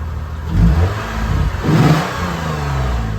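Car engine revs in two strong surges, rising and falling loudly and up close, with a steady idle rumble between the pulls.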